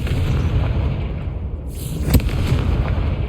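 Confringo blasting spell exploding in Hogwarts Legacy, a loud booming burst with a sharp crack over continuous rumbling game sound, close and heavy, no talking.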